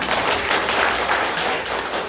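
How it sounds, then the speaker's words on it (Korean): Sustained applause from an indoor audience at a talk, a steady dense wash of many hands clapping at once, loud and even throughout with no voices rising above it. "자기 자신을 위해서, 내 성장을 위해서 자기 자신한테 큰 박수 한번 드리겠습니다"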